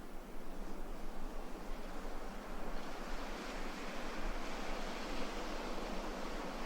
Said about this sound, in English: The rhythmic hush of the ocean becomes your lullaby.